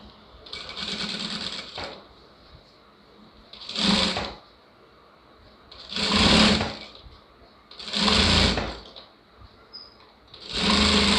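A sewing machine stitches a blouse lining in five separate runs, each a loud, close whirring burst of a second or so, with quiet pauses between them.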